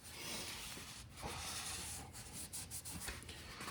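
A jet ski engine mating surface on a 650SX is scrubbed clean by hand with a cleaning mixture, giving soft, uneven rubbing and scraping strokes close by, fairly quiet, with no talking.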